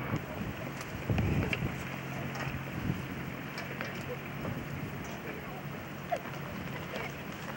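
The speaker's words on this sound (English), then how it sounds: "Boy, it's windier here than Atlantic." Steady wind blows across a lakeside state park, a constant low rushing buffet on the microphone, with people chatting nearby throughout.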